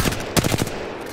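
Continuous gunfire in a PC shooter video game, a loud, close burst of rapid automatic shots fired in quick succession, heard alone without any talking.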